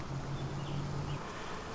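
Honey bees buzz around hives in a bee yard, a steady, dense hum of many insects with a louder bee droning close by for about a second.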